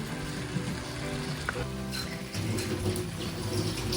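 Mutton bones frying in a pan with salt, coriander and turmeric, stirred continuously; a steady close sizzle runs throughout with faint clinks of the spoon.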